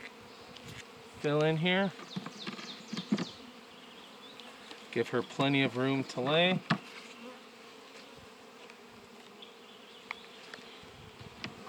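Honey bees buzz steadily inside a polystyrene hive box at a beekeeper's apiary, a dense continuous hum close by that carries under two short stretches of a woman's speech.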